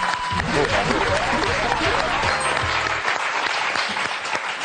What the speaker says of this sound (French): on va vous applaudir très fort